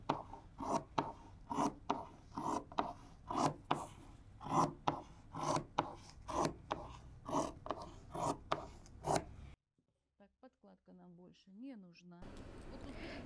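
Scissors snip through dress lining fabric cut on the bias, a steady run of short, crisp cuts close by, then a brief quiet gap before the cutting picks up again.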